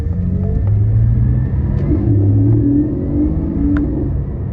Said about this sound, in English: you hear that naturally aspirated induction noise. It's very unparalleled. You don't really get any other car with that sort of distinctive flat six noise